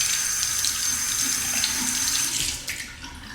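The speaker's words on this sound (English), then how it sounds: "So I'll just soak the brush under the hot water." Hot water runs steadily from a tap while a shaving brush from a Proraso travel kit soaks under the stream. The hiss and splash are close and constant and shift slightly near the end as the brush moves.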